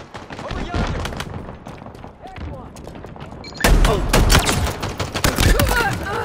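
Rapid gunfire from a Halo Infinite match, dense bursts and shots that grow louder and busier partway through, mixed with game effects and voices talking over the action.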